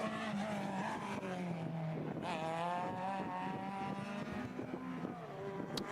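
A Mazda Miata NA race car works through an autoslalom course, its engine note rising and falling with shifts and revs at moderate distance, alongside brief tire noise and faint commentary underneath.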